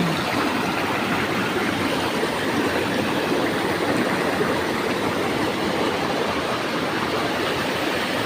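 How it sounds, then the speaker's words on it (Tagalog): Rushing water at Canding Falls roars continuously, a dense, loud and steady wash of waterfall and swirling river water nearby, with no voices. "umiikot yung tubig dito"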